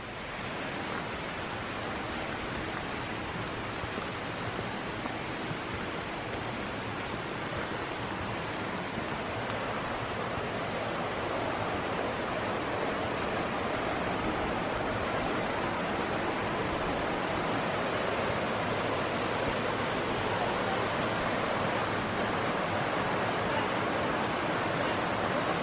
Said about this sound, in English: So we've just come over the other side of this little brook here.